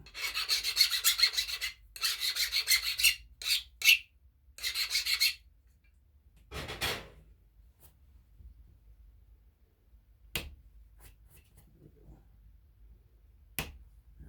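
Filing a flintknapping tool to sharpen it: several bursts of close, rasping strokes in quick rhythm over the first five seconds, followed by a softer scrape and a few sharp isolated clicks amid quiet.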